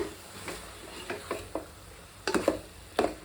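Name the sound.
stirring vangi bath powder and paste in hot oil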